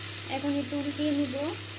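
Tilapia fish sizzles in a frying pan as it is flipped, a steady close hiss running the whole way while a voice speaks over it with a low hum underneath.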